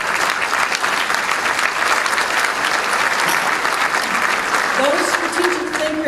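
Loud, sustained applause from the audience at a Harvey Milk breakfast in San Diego, a dense wash of many hands clapping continuously, with a few voices rising near the end.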